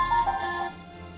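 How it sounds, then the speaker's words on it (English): A phone ringtone plays in a short tonal melodic burst, fairly clear and close, then cuts off and fades into quiet background. "Phone call, thanks."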